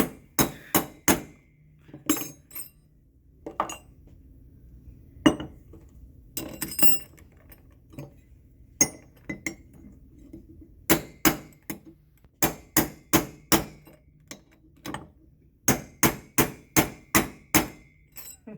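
Hammer taps knocking a collet and specimen out of a fatigue-test machine spindle in a lab, delivered as repeated sharp metallic strikes, often in quick bursts of three to five, loud and close with no talking.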